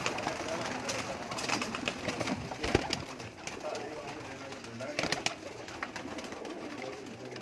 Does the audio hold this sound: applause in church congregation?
no